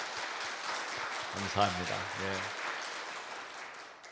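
A church congregation applauds to welcome Jesus, a sustained wash of clapping from many hands that continues while someone briefly speaks over it.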